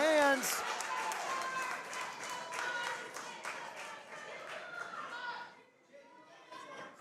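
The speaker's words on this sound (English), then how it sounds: "This crowd chanting, clapping their" At the CWF Conspiracy 2025 wrestling event, the crowd claps in a steady rhythm and chants, a dense run of hand claps that fades near the end, with a commentator talking over it.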